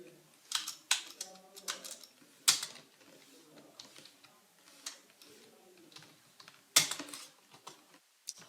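Computer keyboard typing out HTML code: irregular bursts of sharp key clicks with pauses between, close and fairly loud, with quiet room noise beneath.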